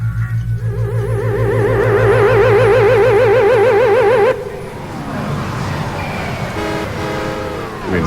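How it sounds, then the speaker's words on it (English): A car pulls up in a radio comedy skit, its loud warbling horn honking continuously for about four seconds before cutting off, followed by a softer engine idle and a few short toots. "here comes a car"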